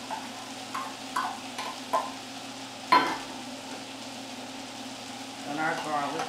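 Green peppers and onion tipped into a pan for a Jamaican broad bean stew and stirred, giving a low, steady sizzle with a few soft scrapes and one sharper clatter, moderately close and fairly quiet, with no talking.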